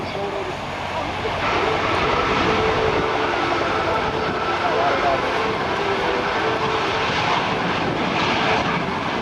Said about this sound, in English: it's the North American Aviation F-86 Sabre jet